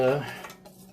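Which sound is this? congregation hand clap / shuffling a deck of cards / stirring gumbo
stirring gumbo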